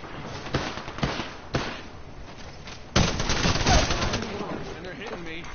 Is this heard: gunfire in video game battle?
yes